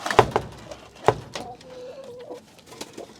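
Short soft clucks and low coos from a big orange mother hen out in the yard with her chicks, close by, with a few sharp scratches and knocks around them.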